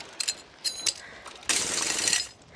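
Drilling into a climbing hold in the game Cairn: a few sharp metallic clicks, then a coarse, sustained whir of about a second, close and fairly quiet.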